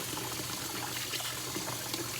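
Water pours and splashes steadily while rice is rinsed, a continuous close trickle with no talk over it.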